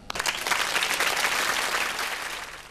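An audience at a televised music show breaks into applause, opening with a few sharp claps that quickly build into a full, steady ovation before easing slightly.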